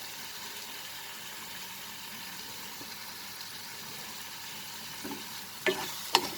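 Salted tomatoes cook in a pan over a medium flame, a faint, even sizzle that holds steady, with a few sharper clinks of a spoon against the pan near the end.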